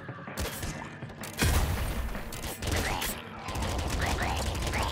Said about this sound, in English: Pop gun.